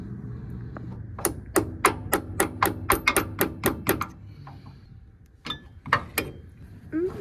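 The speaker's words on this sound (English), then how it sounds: "I just put a little punch in there and bend that thing back out" Sharp, evenly spaced hammer blows on a punch, bending back a lock tab on a 2000 Toyota Tacoma transfer case, about a dozen metallic strikes close up, then a pause and a few more scattered taps.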